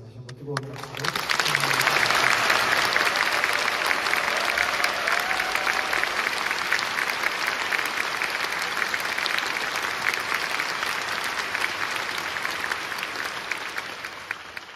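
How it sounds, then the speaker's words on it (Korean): A broad wave of concert-hall applause swells at the curtain call of a Mozart Requiem performance by the National Chorus of Korea, loud dense clapping held steadily for the whole stretch before slowly easing. "사랑하는 우리 라피즈 프레스로 여러분 다시 한번 뜨거운 박수로"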